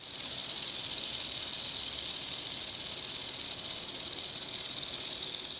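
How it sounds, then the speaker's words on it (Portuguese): A rattlesnake shakes its tail rattle as a warning, a continuous, steady, buzzing hiss held at an even, moderate loudness throughout, with no voices. "As cascavéis utilizam desse som para alertar da sua presença."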